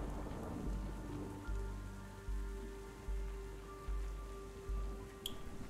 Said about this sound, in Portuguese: Olha que legal essa chuva, cara,